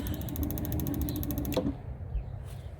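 An old RV water heater clicks rapidly and evenly as its igniter sparks, then the ticking stops with a short whoosh as the burner catches, leaving a quieter hum.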